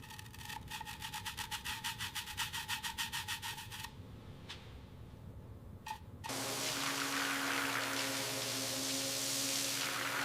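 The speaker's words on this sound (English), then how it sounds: "You have to be gentle but firm with these old spokes. Work the soap in good." Soapy scrubbing on the old wheel spokes of a 1907 De Dion Bouton Type AU, heard first as a rapid run of rhythmic strokes, then a pause with a few knocks, then a loud steady broadband rush of rubbing.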